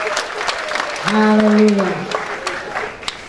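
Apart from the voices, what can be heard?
audience applause in church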